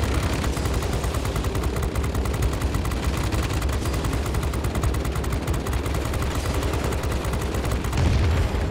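Defensive machine guns of a B-17G Flying Fortress bomber firing in the flight combat game World of Warplanes, a relentless rapid rattle of overlapping bursts over a droning engine, loud and continuous.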